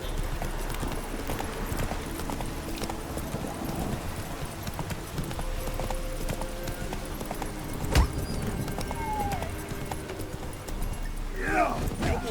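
Roach the horse trotting in The Witcher 3, a steady clip-clop of hooves under a dense ambient game soundscape, with a brief snort near the end and a voice speaking.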